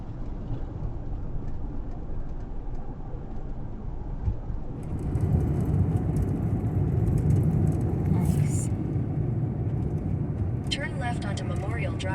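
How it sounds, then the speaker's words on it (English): A van rolls steadily through the sand dunes of Muskegon State Park on Michigan's lake shore, a constant low engine and road rumble that swells partway through. "We're driving through the dunes right now."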